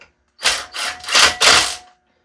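An impact driver tightens the carburetor bolts on a Ryobi 2-cycle gas string trimmer: four loud, close bursts in quick succession, each a rattling whir, with silence before and after.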